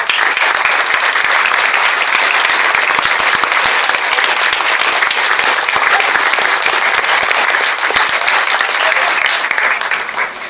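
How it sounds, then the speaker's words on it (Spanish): Loud, sustained applause from a large crowd at a parish Bible month closing event, dense clapping that holds steady for several seconds before tapering slightly at the end. "vamos a agradecerles con un fuerte aplauso"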